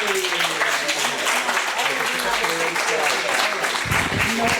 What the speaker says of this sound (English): another round of applause for Guillermo, group number 3.